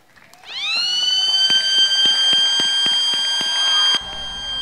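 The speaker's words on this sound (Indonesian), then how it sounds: "Ditandain dengan bunyi sirene" A loud siren wails steadily for about four seconds at a World AIDS Day opening ceremony, with rapid sharp clicks or pops underneath, then cuts off abruptly into a low hum.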